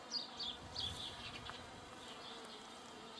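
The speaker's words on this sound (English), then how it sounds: "the bees are enjoying them very much." Bees buzz steadily close by around poppies in a garden in Cyprus in May, their hum rising and falling as they move about outdoors.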